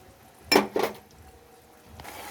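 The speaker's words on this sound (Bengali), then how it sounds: "এবার আমি ভালো করে নাড়াচাড়া করে নেব।" Stirring prawn malai curry in a pan, two sharp metallic clinks of a utensil striking the pan close up, then a quieter scrape against a low background hum.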